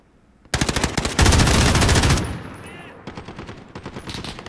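Rapid automatic gunfire from Call of Duty Warzone battle royale, loud and close, with dense overlapping bursts followed by quicker, sharper shots that trail off.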